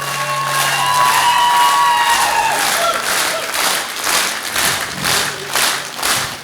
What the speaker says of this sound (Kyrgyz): Элдин кол чабысын бир угуңузчу, Боке.